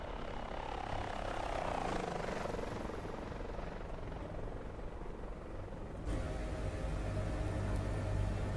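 A helicopter in a flight simulator cruises at 150 knots, its rotor and engine making a loud, steady broadband roar with a faint high whine, shifting abruptly to a slightly different tone partway through.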